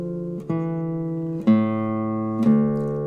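Low piano notes played one after another at a slow, even pace, each struck clearly and left to ring, with no voices.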